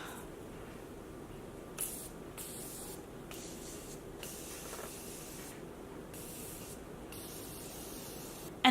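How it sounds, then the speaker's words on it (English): A fine setting spray mist hissing onto a face in repeated short bursts, several quick sprays in a row at close range, with no talking. "So now I'm gonna go ahead and spray my face really fast."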